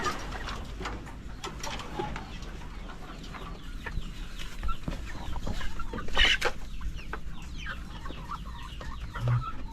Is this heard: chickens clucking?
yes